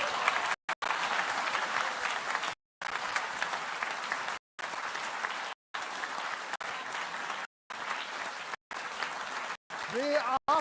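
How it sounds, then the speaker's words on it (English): Sustained applause from a theater audience at the Ig Nobel Prize ceremony, dense and steady, broken by several brief gaps, with a voice entering near the end. "Everyone, please give them a square of applause"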